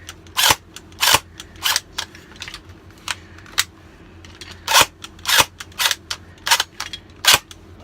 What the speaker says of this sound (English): I can do a quick fire demonstration just because, to kind of show you guys the electronic blowback.